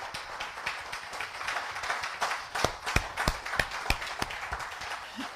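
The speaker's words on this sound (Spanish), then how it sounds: "Dale un aplauso al Señor, hermano," A church congregation claps for the Lord during a sermon, scattered hands at first, then loud, sharp individual claps standing out close by in an uneven rhythm.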